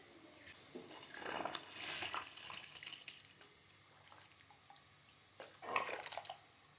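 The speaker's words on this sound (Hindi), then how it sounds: "अब हम इसमें अपने भीगे हुए चावल ऐड कर देंगे।" Watery splashes and sloshing as soaked rice is tipped into a pot of boiling water, with a few bursts of pouring and dripping, quiet in between.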